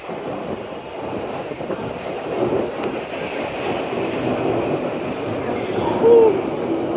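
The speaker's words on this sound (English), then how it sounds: "train's pulling in" A Hammersmith-area Underground train pulls into the station with a broad, steady rumble and wind-like roar that builds slightly, heard at a middle distance with a brief squeal near the end.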